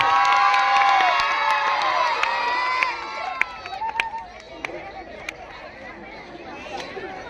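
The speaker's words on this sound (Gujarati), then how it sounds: "એ તાળીઓના નાદથી વધાવી લેવું" A crowd at a school Republic Day celebration erupts in loud cheering and children's shouting for about three seconds, then thins to scattered voices, clicks and murmurs.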